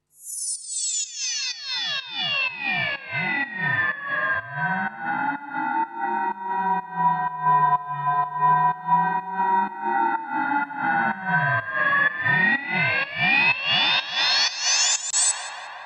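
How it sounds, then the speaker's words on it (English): A reversed downer sound effect from a sample pack sweeps continuously, its layered tones bending down and then rising back up in mirrored arcs, loud and sustained with a pulsing, echoing texture and no voices. "It's kind of a downer kind of effect, but then I then reversed the sample and did it so it kind of rose as well"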